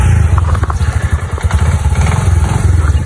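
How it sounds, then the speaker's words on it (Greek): A motorcycle engine runs close by with a low, uneven throbbing beat and some clattering, loud and steady throughout. "να κάνουμε start τη μηχανή"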